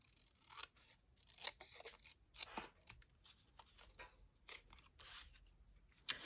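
Scissors snip repeatedly through material at close range, crisp irregular cuts with short pauses between them and occasional rustle or tearing, with no talking.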